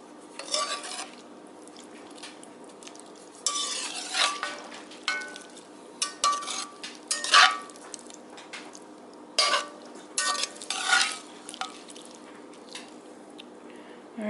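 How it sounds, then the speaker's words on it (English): Cod being stirred into chowder inside a Dutch oven: soft wet squishes and scraping spoon knocks come in irregular bursts over a steady low hiss, close and fairly quiet, with no talking. "now I am going to put some cod in. Stir it up."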